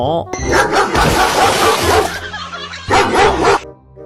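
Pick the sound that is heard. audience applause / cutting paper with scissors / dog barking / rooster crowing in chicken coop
dog barking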